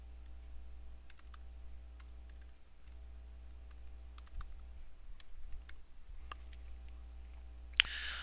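Faint, sparse keystrokes on a computer keyboard as a CAPTCHA and email address are entered, irregular taps and clicks in a quiet room with a low steady hum beneath.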